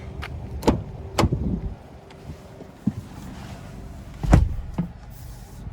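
Someone settling into the driver's seat of a 2022 Hyundai Kona N Line, a few close thumps and knocks of body and door against the cabin, with a heavier bump near the end over low wind-like rumble.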